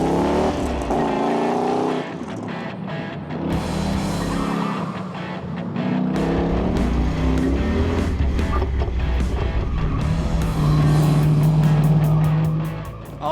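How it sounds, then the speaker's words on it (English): A 1970 Dodge Challenger muscle car driven hard on a race track, engine roaring loudly and continuously with rising and falling revs through gear changes and corners, close and dominant throughout. "so let's go out and put it on the track"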